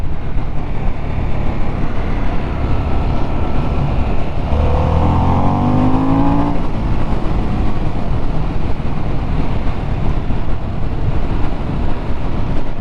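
Harley-Davidson Sportster S motorcycle on a test ride, accelerating through the gears with a brief rising engine pull, mostly buried under loud wind and road rush that runs throughout.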